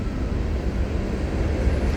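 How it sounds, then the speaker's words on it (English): CSX freight train trailing train M412 on the old B&O line, heard as a steady low rumble and roar that holds evenly throughout, with no voices over it. "we got another train following M412."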